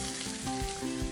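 A seared steak roulade sizzles steadily in a cast iron pan on a Weber kettle grill outdoors, a continuous close frying hiss with occasional low thumps.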